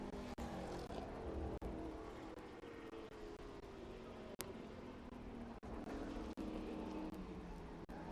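TA2 series race cars at Watkins Glen during qualifying, a continuous roaring engine note with pitch sweeps as cars rev and pass, loud and sustained with occasional sharp clicks.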